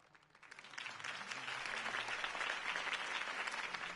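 A crowd breaks into applause that swells quickly and holds as a dense, steady clapping for several seconds, in the video game Batman: The Telltale Series.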